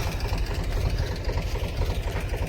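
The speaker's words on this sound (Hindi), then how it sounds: "ટ્રેક્ટર ફરવાનું ચાલુ છે" A tractor engine running on a potato farm, throbbing loud and close in a steady low rumble with rhythmic knocking pulses and no talking.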